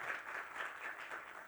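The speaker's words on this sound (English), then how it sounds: "let's give a very big round of applause to the panel" An audience applauds a panel at the close of a discussion on regulating online gaming, giving a steady, soft wash of clapping that sounds distant and fairly faint.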